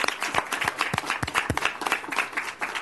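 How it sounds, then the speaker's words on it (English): An audience gives a short round of applause, a quiet patter of individual claps with distinct separate hand strikes, fairly sparse and close, with no one speaking over it. "he deserves a round of applause for that"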